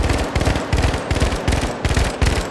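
Famas burst rifle in the shooter The Finals, firing loud clustered bursts one after another in a steady rhythm, each short volley of rapid cracks separated by brief gaps, up close with no talking.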